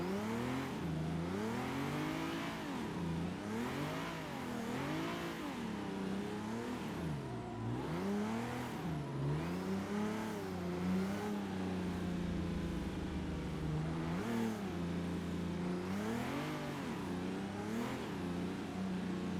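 A car engine in Assetto Corsa revs up and down repeatedly in a sim drift session, a steady loud roar rising and falling in pitch, with no talk.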